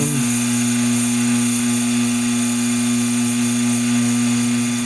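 A Taig lathe cutting 304 stainless steel, giving a steady, close motor hum with a constant whine and no speech.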